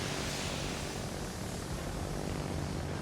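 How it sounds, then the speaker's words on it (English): Aircraft launched from the Ise, a Japanese hybrid battleship-carrier in World of Warships, drone by as a dense, steady propeller-engine roar that holds at constant loudness for a few seconds. "I'm going to launch my planes right now while my guns are reloading."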